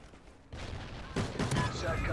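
Gunfire in the video game Call of Duty: Ghosts, a burst of rapid close shots that turns into sustained loud firing, while a player talks under the shooting.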